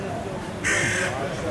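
A crow gives a loud, close caw lasting about half a second, standing out over steady background noise during a crow attack in Akçakoca.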